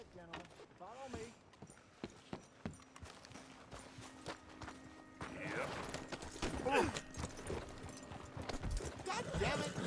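Horse hooves clip-clop at a walk in Red Dead Redemption 2, an uneven clatter that grows busier and louder toward the end amid game sounds and character voices talking.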